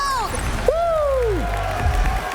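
The live venue crowd at the 2025 Pokémon EUIC VGC grand finals cheers and applauds in a sustained roar, with a rising and falling whoop riding on top.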